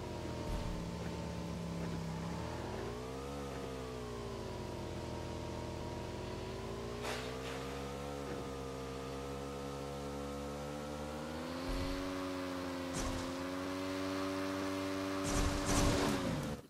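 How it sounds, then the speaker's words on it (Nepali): Motorbike engine in the PUBG Mobile game while riding on a road: a continuous buzzing engine drone whose pitch rises and dips as the bike speeds up and slows, heard alone with a few faint clicks. "केटाहरू बाइक कुदाउँदा सधैँ यसरी कुदाउनु पर्छ है रोडमा नि हो यसरी"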